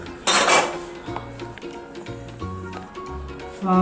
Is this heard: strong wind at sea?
no